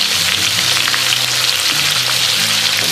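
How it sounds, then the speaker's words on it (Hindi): Corn fries deep-fry in hot oil with a loud, steady bubbling sizzle that runs unbroken throughout, with no voices over it. "यहाँ पे हमारा ऑयल गर्म हो गया है, तो हम ये फ्राइज इसमें डाल देंगे।"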